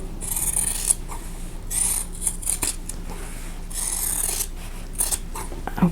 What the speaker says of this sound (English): now I'm going to cut this apart on that drawn line